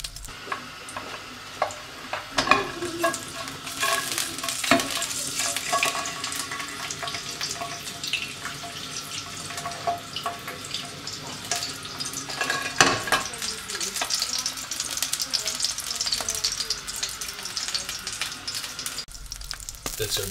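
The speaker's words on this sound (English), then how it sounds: "This is a sausage frying in a frying pan." A sausage sizzling and spitting in a frying pan, with steady crackle and irregular louder pops and clicks throughout, close and continuous.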